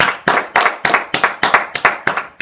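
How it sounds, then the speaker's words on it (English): Audience applause for a guest, loud close claps coming in a steady, regular rhythm of about four beats a second with nothing else heard. "Let's give it a good big round of applause to Dalton Touchberry."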